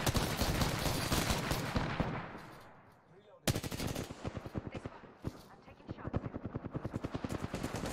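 Rapid automatic gunfire in a video game, bursts of shots that stop briefly then resume in steady rattling volleys, fairly close.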